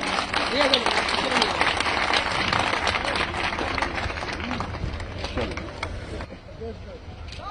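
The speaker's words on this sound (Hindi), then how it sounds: "ये देखो जोरदार ताली बजाइए।" An audience claps loudly and steadily at a political gathering while a voice speaks over the applause. The clapping thins out toward the end.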